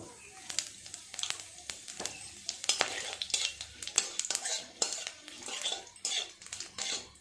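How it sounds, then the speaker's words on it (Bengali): Cumin, dried chilli, cardamom and cloves crackle in hot oil for a paneer curry, a close sizzle under a dense run of quick clinks and scrapes from a spoon against the pan. "এই তেলের মধ্যেই আমি কিছু ফোড়ন দিয়ে দেব ফোড়নে দেব হাফ চামচ জিরে একটা শুকনো লঙ্কা আর খুব অল্প একটা এলাচ দানা আর দুটো লবঙ্গ"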